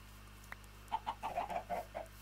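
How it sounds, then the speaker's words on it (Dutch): Chickens in the Minecraft video game give a quick run of about eight clipped, blocky clucks after one faint click, close and clear with no talk. "Wow, wat een soortje kip hier."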